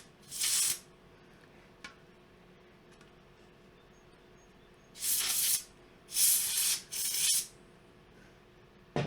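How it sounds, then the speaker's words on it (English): Canned air blasts dust out of the heat sinks of an Antminer Z9 mini crypto miner in several short bursts of loud hissing spray, one brief and then three longer ones, with quiet gaps between them. "I just suggest using some canned air"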